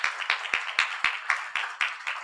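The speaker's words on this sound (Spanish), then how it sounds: "un aplauso para Margarita" A small audience applauds for Margarita, the Latin Artists coordinator, at a forum on collecting societies: steady, moderately loud clapping with a few sharp, regularly spaced claps standing out, no talk over it.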